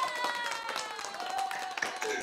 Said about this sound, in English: Hey, we give you applause.